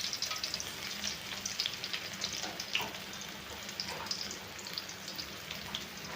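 Breaded onion rings fry in hot oil with a steady, crackling sizzle and scattered sharp pops.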